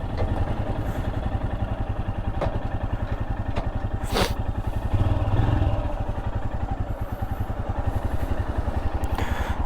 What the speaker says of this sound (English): test ride here of the new Royal Enfield Himalayan Scrambler.